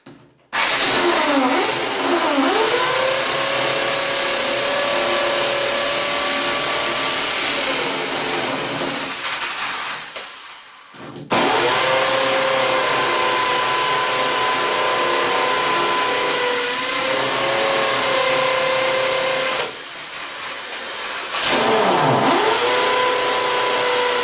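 A power drill whines steadily for long stretches while drilling into bathroom tile, pitch dipping as it bites, stopping briefly then starting again, loud and close.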